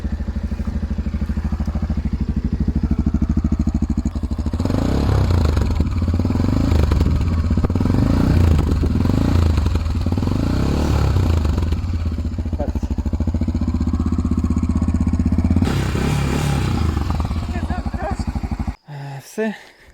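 A 2024 Tekken motorcycle engine idles close and loud with a steady deep throb that briefly swells, then cuts off near the end.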